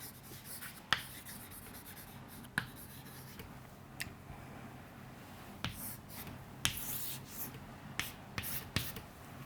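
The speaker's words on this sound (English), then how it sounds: "I am writing it here" A marker or chalk scratching across a classroom board in a physics lesson, with sharp isolated taps and short strokes at irregular intervals over a quiet room hiss.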